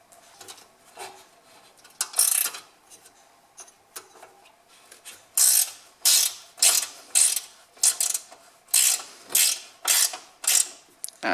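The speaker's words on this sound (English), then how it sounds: "so we got to remove this bolt and then this one" Close ratcheting from a socket wrench loosening a 7/16 bolt on the handle of a Victa 18 Rotomo Model 2 lawn mower, starting with scattered clicks and a few bursts, then settling into about ten steady, evenly spaced rapid ratchet strokes.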